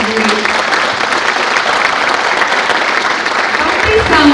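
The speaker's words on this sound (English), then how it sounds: "if you could give them a big round of applause" Steady, loud applause from a crowd at a school spring concert, continuous clapping throughout without pause.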